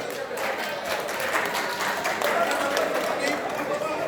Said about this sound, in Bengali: তার জন্য একটা জোরে হাততালি হয়ে যায়